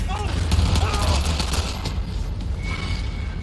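Gunfire rattles in rapid bursts during a shooting section of Cyberpunk 2077, loud and dense at first and then thinning under a low rumble of game sound.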